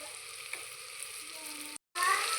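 Onion fries in a pan with salt, a steady soft sizzle with faint crackle, close but low in level, cut by a short silent gap before resuming.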